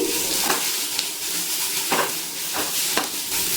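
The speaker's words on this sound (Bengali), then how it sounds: "গ্যাসের ফ্লেমটা লো টু মিডিয়ামে করে 5 মিনিট ধরে গ্রেট করা পেঁপে ভেজে নিয়েছি।" Grated raw papaya frying in a pan over a low to medium gas flame, with a steady bright sizzle and several sharp stirring scrapes of a utensil against the pan.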